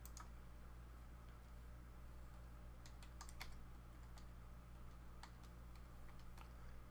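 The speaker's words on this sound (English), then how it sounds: "I will type this into chat" Sparse clicks of typing on a computer keyboard, irregular bursts of keystrokes over a steady low hum, with no voices.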